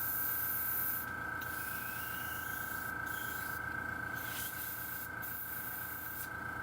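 A spray nozzle hisses continuously as the last of the cleaner is forced out through the line, a steady close rushing spray with brief sputtering breaks.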